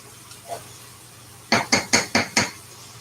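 A metal spoon stirs lentils and rice in a cooking pot, landing five quick, bright clinks against the pot's side in a steady rhythm after a near-silent start, close by with no talking.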